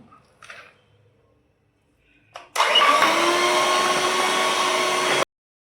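An electric mixer beats butter with brown sugar for cookie cake batter, starting after a few brief clicks and then running loud and steady with a constant whirring hum for nearly three seconds before cutting off sharply.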